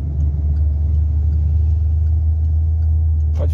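A car's engine during a driving lesson, a loud, steady low rumble throughout with a faint noise near the end and no talking.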